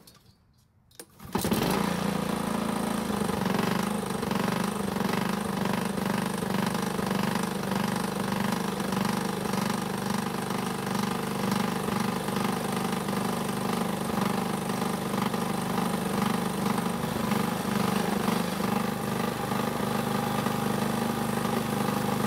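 A badly worn Honda walk-behind lawn mower on fresh gasoline catches after a quiet pull and settles into a loud, steady, close engine drone that runs without a break, with no one talking.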